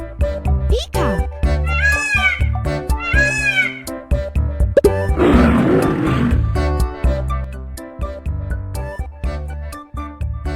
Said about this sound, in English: Amazing! Lion!